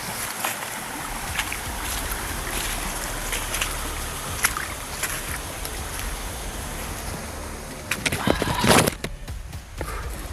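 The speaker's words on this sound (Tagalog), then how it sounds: "may batis di pala dito mga kaidol" Continuous rushing water of a flowing stream, steady and broadband, with a few louder splashes and knocks toward the end.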